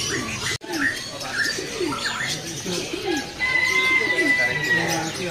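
Busy bird chatter from canaries at a bird kiosk, with cooing and chirps over a murmur of voices, with a sustained high trill rising in the second half.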